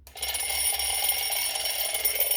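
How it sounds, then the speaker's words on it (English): An alarm clock rings continuously, a bright rapid metallic ringing that starts abruptly and holds steady at moderate loudness, with no voices. "sitting there waiting for the alarm to go off"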